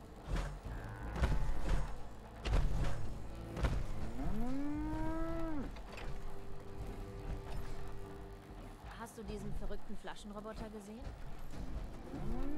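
A cow in Fallout 4 gives a long, drawn-out low moo with a rising and falling pitch, followed later by a shorter one, heard over steady game noise and occasional voices.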